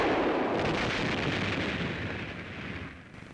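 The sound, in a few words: M18 57mm recoilless rifle test firing at concrete wall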